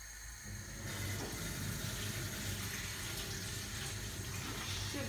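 Cold tap water runs steadily over defrosting prawns in a kitchen sink, a constant close hiss and splash that starts up and keeps flowing throughout with no talk.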